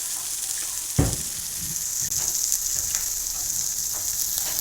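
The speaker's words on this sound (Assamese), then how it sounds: "জলকীয়াখিনি ৰঙা কৰি ভাজি থাকিব লাগে।" Green chilies and onions fry in a hot pan with a steady, close sizzle, one sharp clatter near the start and a few faint stirring knocks after it.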